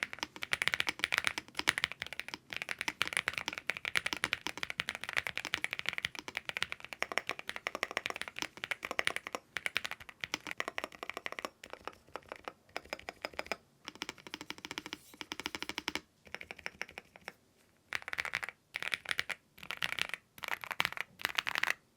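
Fast typing on a NuPhy Gem80 custom mechanical keyboard produces dense, rapid clacky keystrokes, close and continuous with brief pauses toward the end.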